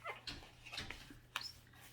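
A puppy whimpers and yips in short high cries at the door, several brief bursts over quiet kitchen room tone.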